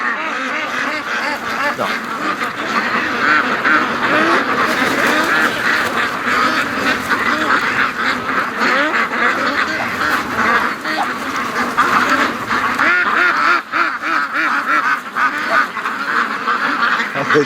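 Ducks, Muscovy among them, quack and honk steadily at a lake, a dense, loud flock chorus with overlapping calls throughout.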